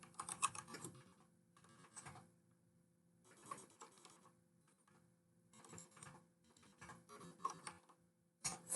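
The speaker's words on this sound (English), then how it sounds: "then we'll type in executive summary." Computer keyboard keys are tapped in short, quiet bursts of clicks separated by brief pauses, close by and with no talking.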